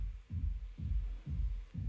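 Kick drum heard through the reverb return alone, four soft, boomy low thumps roughly half a second apart, each trailing into a smeared low-mid wash.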